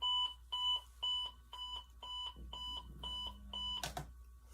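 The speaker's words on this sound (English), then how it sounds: "Why my alarm clock keep going off?" An alarm clock goes off with a regular series of short, bright electronic beep bursts, about eight in steady rhythm, close and clear, ending with a knock or click.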